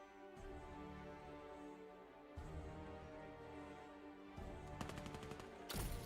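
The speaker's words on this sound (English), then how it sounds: "Gunshots already." Gunfire in a competitive five-versus-five video game match, with sustained bursts of rapid automatic shots over a busy game soundscape and a sharp, dense volley near the end.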